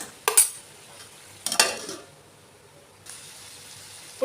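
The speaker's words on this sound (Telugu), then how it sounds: "ఇలా వేసుకొని కలుపుకొని మూత పెట్టుకోవాలి" Cauliflower and small-cut tomatoes are stirred in a pan with oil, giving a few brief scraping, clinking bursts separated by quiet stretches, with no talk.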